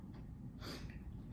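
A single short, sharp nasal burst like a sneeze, fairly close and quiet, with no talking around it.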